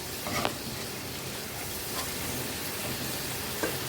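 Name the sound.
sautéing cumin and green chili paste in pan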